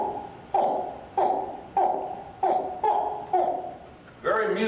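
A human voice mimics alligator hatchlings calling from inside their eggs, giving six short, grunting, hooting chirps at a steady pace, close and clear, with a slightly longer call at the end.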